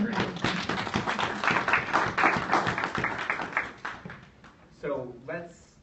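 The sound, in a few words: audience applause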